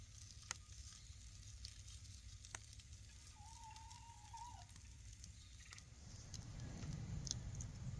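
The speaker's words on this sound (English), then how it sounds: "Man, listen to that meat sizzle." Meat sizzling over a warm campfire in the open, a soft steady crackle and hiss with scattered pops, faint and continuous with no talk.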